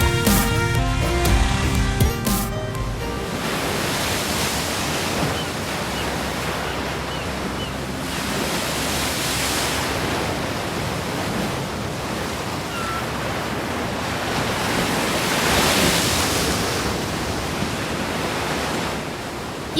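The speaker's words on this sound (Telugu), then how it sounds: "ఈ అలలు పదే పదే వస్తూ మనల్ని డిస్టర్బ్ చేస్తున్నాయి కదా" Sea waves wash in against a rocky shore again and again, a steady broad roar of surf that swells and recedes in long surges, loud and close, with no voices.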